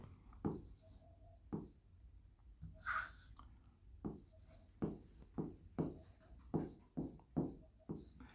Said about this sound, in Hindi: तो हमने अमित यहाँ लिख लिया।